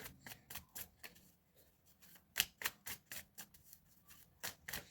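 Tarot cards being shuffled: quiet, irregular bursts of riffling and flicking card edges, a dozen or so short crisp flutters spaced unevenly, close and soft with no voices.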